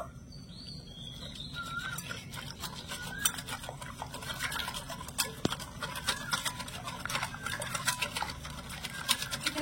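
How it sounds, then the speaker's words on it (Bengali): Semolina and water stirred together in a bowl, a steady run of close scraping and clicking strokes that grows slightly busier toward the end, with no voices over it. "তো এখানে আমি খুব ভালো করে সবকিছু মিশিয়ে নিয়েছি"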